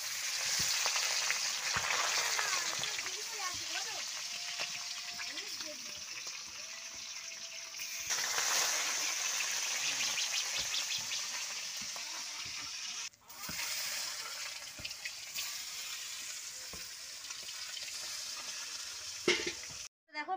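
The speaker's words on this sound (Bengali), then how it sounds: "এখন মাছ ভাজবো, ভেজে ঝোল বসাবো" Fish sizzles in hot oil in a pan over about twenty seconds, a continuous crackling hiss with occasional clatter and shifts in level, and no one speaks.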